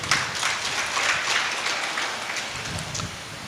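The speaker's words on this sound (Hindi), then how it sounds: "थोड़ा तालियों से स्वागत करिए" A crowd at a Hindu devotional storytelling gathering claps in welcome, the applause forming a hissing, rain-like wash of many hands that stays even throughout.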